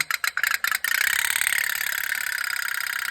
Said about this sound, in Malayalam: ബോട്ട് ഓടുന്നുണ്ടല്ലോ അടിപൊളിയായിട്ട്